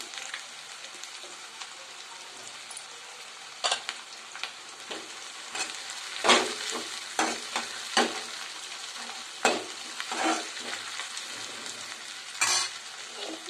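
Chopped tomato going into bisi bele bath masala frying in a pan, with irregular scraping stir strokes and soft clatter over a steady sizzle; no one talks.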